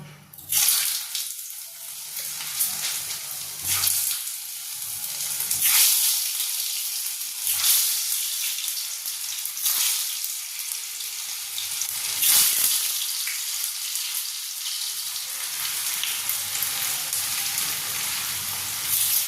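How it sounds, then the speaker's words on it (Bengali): Potatoes frying in hot oil in a pan, a steady, loud, close sizzle and crackle that swells in waves and continues throughout without talk. "তেলটা গরম হয়ে গেছে, এবার আমি আলুগুলো অল্প অল্প করে ভেজে নেব।"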